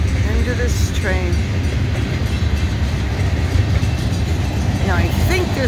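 A train rumbles past close by in South Windsor, Connecticut, a steady heavy roar of wheels on rail with a couple of brief high squeals over it.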